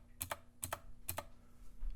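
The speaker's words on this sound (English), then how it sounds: "we're going to hit tab on our keyboard" Keys on a computer keyboard being tapped while editing text in Blender, three clusters of quick double clicks spaced evenly, close and fairly quiet with no talking.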